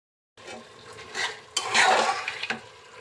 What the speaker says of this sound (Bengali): এগুলো এখন মশলার সাথে খুব ভালোভাবে নেড়ে চেড়ে কষিয়ে নিতে হবে